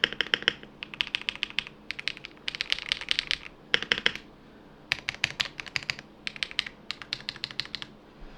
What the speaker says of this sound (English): if I get close enough with the camera to the keyboard, and you guys can hear it